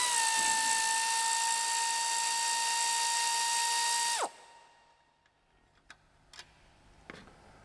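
A ratchet on a 15mm socket spins strut nuts off a Ford Mustang S550 with a steady, close whirring whine for about four seconds. It then winds down abruptly, followed by a few faint scattered clicks.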